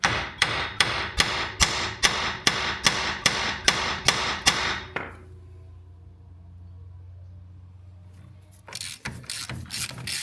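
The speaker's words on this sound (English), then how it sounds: "So dead blows to this side, dead blows to that side." A 2-pound dead blow hammer strikes a Jeep Liberty KJ axle about a dozen times in a fast, even rhythm, each hit loud and close. A quiet stretch follows before more clattering work noise returns.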